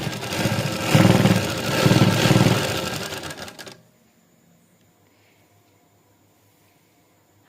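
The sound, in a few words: sewing machine stitching shalwar waistband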